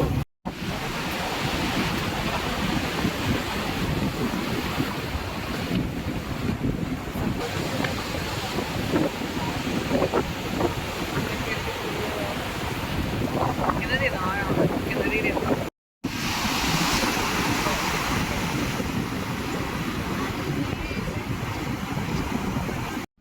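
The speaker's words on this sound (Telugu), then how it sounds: "చల్లని గాలి, సముద్రపు అలలతో ఆ ప్రదేశం అంతా నాకు చాలా బాగా అయితే అనిపించిందండి" Cool sea wind and ocean waves along the Vizag coast make a constant broad rushing roar with heavy wind buffeting on the microphone, steady and loud throughout with one brief dropout.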